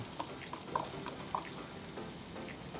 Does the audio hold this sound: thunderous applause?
no